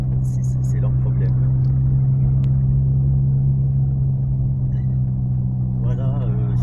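A car creeps slowly up the Col du Lautaret mountain road in the Hautes-Alpes, its engine and tyre rumble a constant low drone from inside the cabin while someone talks over it.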